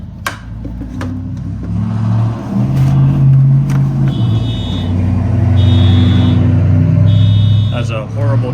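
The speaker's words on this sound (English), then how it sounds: "As a horrible truck drives by, that sets off a car alarm" A heavy truck rumbles past outside a home garage, its low engine drone swelling and fading, while a car alarm's repeating electronic chirps and tones sound intermittently over it, close and fairly loud.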